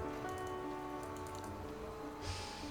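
Steady rain pours throughout a rainy scene in the video game Rue Valley, an even, close hiss of drops over a low ambient hum, with no voices.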